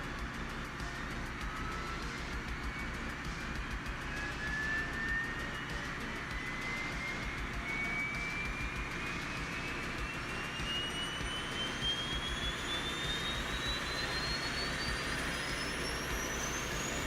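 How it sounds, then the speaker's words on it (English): Boeing 737 auxiliary power unit spooling up in the X-Plane 12 flight simulator, a steady turbine roar with a whining tone that rises steadily in pitch, constant and fairly quiet, no talk. "Okay, APU is moving."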